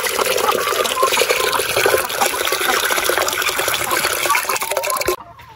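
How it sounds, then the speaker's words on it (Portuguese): Tap water running steadily and close by, with a fairly loud, continuous splashing flow that stops abruptly near the end, in a rural farm kitchen. "Se tiver quente, tem que deixar sair a quente para depois colocar a fria."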